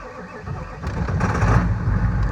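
Ford OBS 7.3 diesel truck engine starting cold on a chilly morning. A loud, close, low rumble swells after about a second and holds steady, with no talking.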